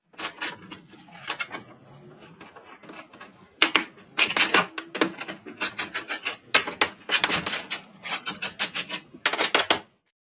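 Screws are taken off a 2022 Ford F250 Lariat truck grille with a 10 millimeter socket, heard as close, bursty ratcheting clicks in short runs with brief pauses between.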